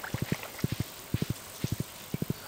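Horse hooves while riding in the Stardew Valley video game, quick clip-clop in repeated groups of three beats at an even rhythm, close and clear.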